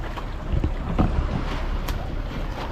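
A small boat's engine drones in the distance during a fishing trip on a strong current, over gusty wind buffeting the microphone, with water washing nearby.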